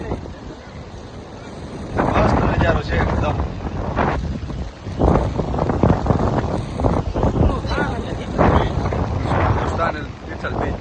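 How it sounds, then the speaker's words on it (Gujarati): Strong, gusty wind roars and buffets the microphone at Tithal beach on the Gujarat seashore, while someone talks over it throughout. "ફૂલ પવન આવે અત્યારે."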